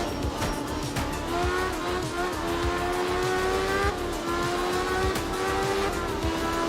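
A rally car engine in the video game art of rally screams at high revs, pitch sliding up and down through gear changes, with tires squealing under the steady, loud roar.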